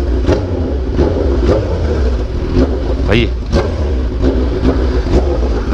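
Honda CB1000 motorcycle engine with a deep, rough idle and repeated sharp throttle blips every second or so, close and loud, while people talk over it.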